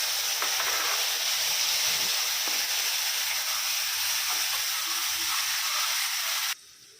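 Lemon juice hitting hot oil in a pan of lemon rice with peanuts and lentils sets off a steady, bright sizzling hiss that holds for several seconds, then cuts off abruptly near the end.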